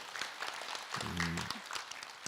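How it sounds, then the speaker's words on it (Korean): A seated audience at a Buddhist monk's question-and-answer talk applauds with moderately quiet, uneven clapping, while a brief low tonal sound briefly rises beneath it partway through. "박수로 맞으세요."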